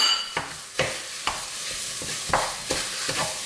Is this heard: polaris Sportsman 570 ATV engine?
no